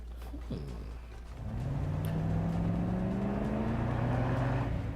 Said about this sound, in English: The roaring sound of an engine grows ever closer, quickly followed by a jeep and the trail of dust behind it suddenly coming into view.